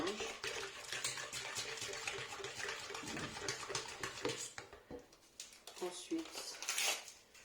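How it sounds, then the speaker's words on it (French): Pancake batter is mixed with melted butter in a bowl, making wet stirring and clinking utensil sounds against the bowl in uneven bursts, with a voice talking over it. "On mélange."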